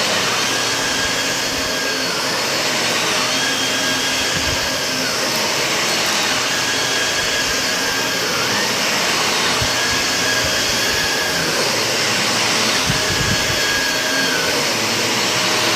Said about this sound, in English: I may be vacuuming with one arm, but it's not easy to push on this